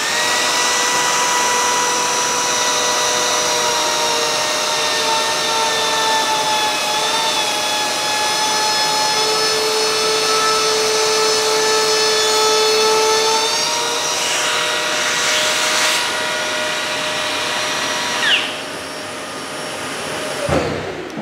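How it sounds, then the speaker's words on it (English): A router cuts MDF architrave with a vacuum hose attached, giving a loud, steady high-pitched whine with droning tones that holds for about twenty seconds, shifting slightly near the end as the cut finishes. "I'll just quickly route all of these out in one go. What I'm going to try is doing it with the Hoover on here"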